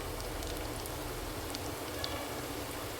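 Onions frying in a pan as the first step of chicken biryani give a faint, steady, even sizzle with a few small pops.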